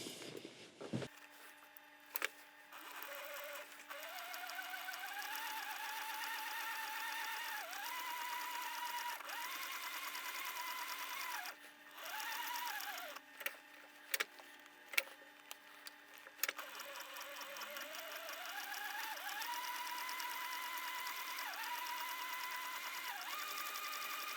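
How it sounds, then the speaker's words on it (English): A sewing machine hums steadily as it stitches leather, with a few brief pauses and clicks mid-way before running on again. "we'll go to the sewing machine. We're going to sew this on here"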